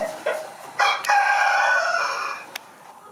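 A rooster crows loudly and close by, one long drawn-out call with a rising start, with a few short clucks and scuffs around it.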